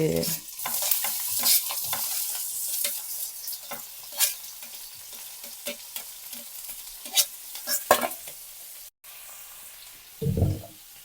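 Chopped onion hits hot oil in a home kitchen pan and sizzles steadily, with repeated scraping stirs and a brief pause near the end before a louder burst of frying.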